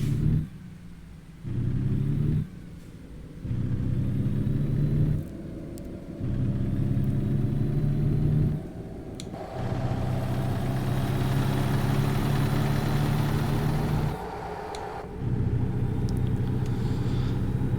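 A heavy truck engine in American Truck Simulator revs and accelerates with a loud, steady low rumble. Its pitch climbs across several gear shifts, with brief dips between them, and no one speaks over it.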